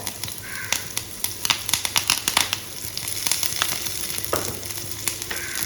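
Shallots, garlic and curry leaves fry in hot oil for a mushroom kurma, with crackling sizzle and sharp spitting pops over a steady hiss, close by.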